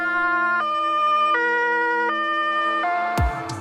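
A loud wailing siren from a 4x4 Sprinter van, with steady repeating tones, close by, ending with a brief thump.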